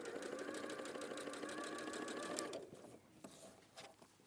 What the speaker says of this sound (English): So now I've stitched, started there and sewed off the end.